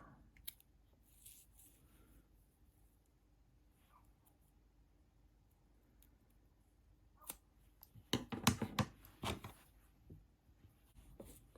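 Scissors snip crochet yarn ends, a quick cluster of close, crisp cuts near the end after a stretch of quiet handling sounds.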